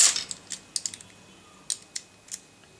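A MoYu Mini AoLong speed cube gives off a string of sharp, dry clicks as its layers are turned, irregular and close, with gaps between bursts.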